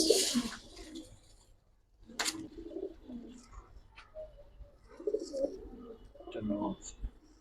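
Silver Giribaz pigeons cooing nearby in repeated low, throaty coos, with a brief sharp flutter or rustle between calls. The sound is intermittent and fairly quiet.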